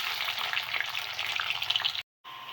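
Chopped onions sizzling in hot oil with cumin seeds for an aloo-brinjal curry, a steady close hiss with light stirring, briefly cut to silence near the end before resuming.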